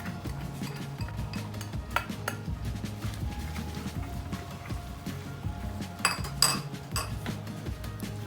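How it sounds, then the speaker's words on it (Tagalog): Carrots being sautéed in a pan for ham and shrimp fried rice, with steady clinks and scrapes of a utensil against the pan over a low frying hiss, a few sharper metallic knocks standing out. "Pwede na nating ilagay yung ating carrots dito para masama na rin dito sa paggigisa"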